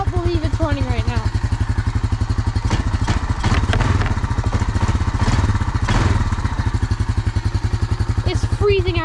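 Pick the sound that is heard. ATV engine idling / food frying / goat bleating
ATV engine idling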